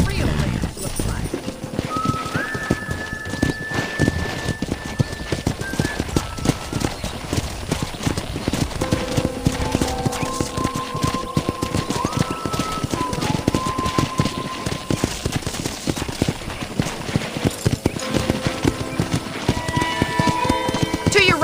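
Horse hooves clip-clop in a steady galloping rhythm during riding in the video game Red Dead Redemption, loud and continuous, with spoken dialogue and a few whinnies over the hoofbeats.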